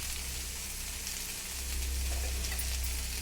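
Okra fries in a pan with a steady, close sizzle that swells a little louder partway through, a continuous crackling hiss with no talking over it.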